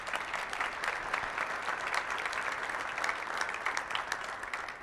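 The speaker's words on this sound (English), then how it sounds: "So I want to give you guys a round of applause for what you're doing." An audience applauds the El Paso Chamber at a State of the City address, a dense, steady round of clapping from a large crowd holding even throughout.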